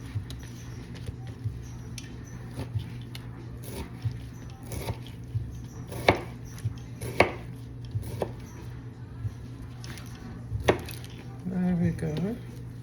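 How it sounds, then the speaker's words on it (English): Knife chopping food into chunks on a board, quiet and close, with irregular sharp taps spaced about a second apart and a brief voice near the end. "You chop it into chunks like so"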